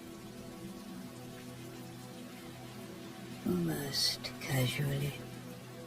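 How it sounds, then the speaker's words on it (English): Gentle rain patters softly and evenly in the background while a calm, quiet narrator speaks over it. "The rain begins slowly, gently"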